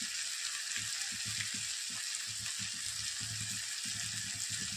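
Ginger garlic paste and besan (gram flour) sizzle in a hot pan with a constant broad hiss, while low clattering thuds of stirring come and go underneath.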